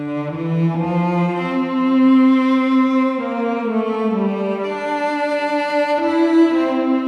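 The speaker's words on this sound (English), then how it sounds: "But with my Studio Verb preset, it now sounds like this." A cello melody bathed in a Studio Verb reverb preset, each note blurring into a lingering wash that carries under the next, played alone and fairly loud.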